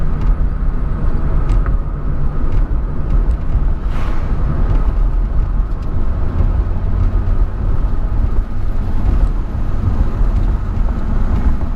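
A Honda Civic EM2 with a freshly swapped manual gearbox drives along, its engine and road noise a loud, steady drone from inside the cabin with slight shifts in pitch as it moves through the gears.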